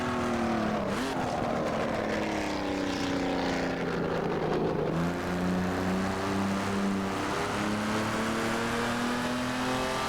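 A Jaguar XJ13 race car in the Assetto Corsa racing game, its engine roaring loudly and continuously, revving up and shifting through gears as it drifts through corners.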